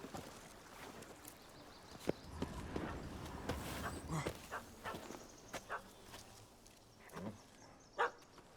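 A dog barks in short, scattered bursts in The Witcher 3: Hearts of Stone, mixed with clopping hooves and footsteps over a quiet outdoor game ambience.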